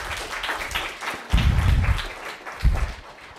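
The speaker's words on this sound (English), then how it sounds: "Let's give them a round of applause." A live audience applauds at a panel discussion on internet policy, clapping in loud swelling bursts that rise, fade and flare again over a few seconds.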